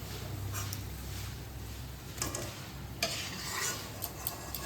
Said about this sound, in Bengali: এইভাবে আপনারা পিঠেগুলো ভেজে নেবেন।